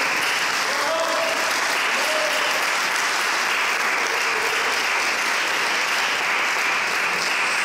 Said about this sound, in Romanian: corului Armonia, aplauze!